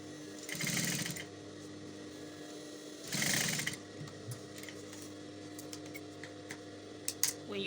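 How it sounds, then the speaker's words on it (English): A home sewing machine stitches fabric for a puff-sleeve top with a round neck, run in two short bursts near the start, then mostly a quiet hum with a few small clicks. "So you really don't want to sew this side fast."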